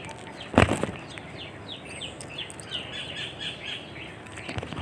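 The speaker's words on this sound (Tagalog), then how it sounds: "maraming ibon na umiiyak. Nasa ano tayo, gubat." Many birds calling in a forest in the Philippines, scattered chirps and tweets at a moderate distance with a sudden close burst of flapping wings near the start.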